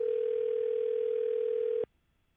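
A single steady telephone tone sounds on an unanswered call to someone in an operating room, holding loud and constant for nearly two seconds before cutting off abruptly into near silence.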